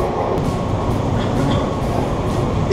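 Steady, loud rumble of a metro train with continuous wheel and motor noise, broadband and unbroken throughout.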